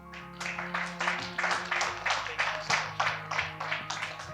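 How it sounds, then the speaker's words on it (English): Applause from an audience at a press briefing, with steady rhythmic clapping that swells into about nine regular pulses, moderately distant and without talk over it. "A better round of applause for Honorable Henry Morris Kivalia."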